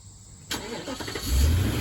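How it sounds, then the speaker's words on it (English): An Infiniti QX80 engine cranks and fires up by remote start, a sudden loud catch followed by a rising, steady rumble settling toward idle, heard close with no talking. "this vehicle right here, it's nice, it's convenient, it's got remote start."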